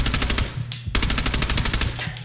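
Rapid machine gun fire in Fallout 4, a steady stream of loud bursts with one short pause near the start before the shots resume.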